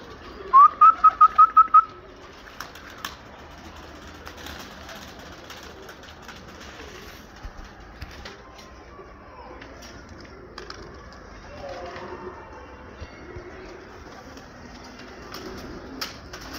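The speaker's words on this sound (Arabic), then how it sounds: "هذه أنثى حمام تركي." A female Turkish pigeon coos in a short rhythmic run of soft notes close by, followed by quiet rustling and faint background noise.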